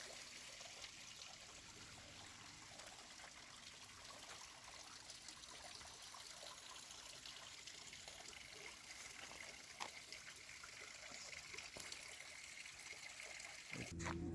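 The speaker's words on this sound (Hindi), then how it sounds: "उसी तरह से यह निरंतर झरना झरता रहता है, पानी बहता रहता है।" Mountain waterfall in the Swiss Alps near Alten on the Säntis/Sefenwil range, giving a steady, continuous rush and trickle of flowing water heard at moderate distance, with no speech over it.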